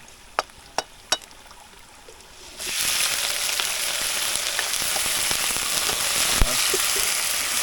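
Shrimp and ginger hit hot cooking oil, and a loud, steady sizzle and crackle suddenly fills the room after a few sharp clicks, continuing evenly with occasional pops.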